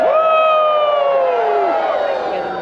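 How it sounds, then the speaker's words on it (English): A crowd at a Dickens holiday festival in Fayetteville, North Carolina cheers and whoops loudly while passing public safety sirens wail, sustained voices layered over the rising and falling sirens. "I'm going to pause so you can cheer while the sirens go by in our public safety"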